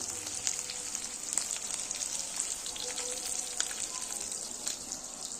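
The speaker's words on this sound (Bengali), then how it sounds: "মাছ ভাজা বসিয়ে দিয়েছি।" Fish frying in oil in a pan on a stove, a steady close sizzle and crackle with small pops throughout, no voices.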